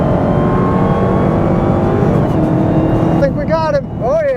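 A Dodge Hellcat Charger Widebody launching hard, a loud close engine roar with the tone climbing through the gears, and a person talking as it fades toward the end.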